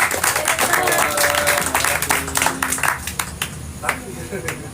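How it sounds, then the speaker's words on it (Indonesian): Audience at a talk event claps with sharp, distinct hand claps over a lively room, people talking and calling out amid the applause. "Tepuk tangan."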